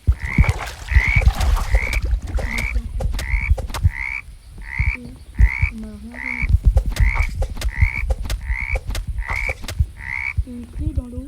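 Frogs croak in a regular, repeating rhythm in the Roblox game 99 Nights in the Forest, clear and fairly loud, with a deeper second croak joining in now and then.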